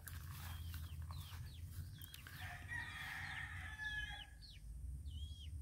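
A young rooster kept in a small bamboo enclosure gives a string of short, high pit-pit chirps, several spaced calls rising and falling over a constant low background rumble.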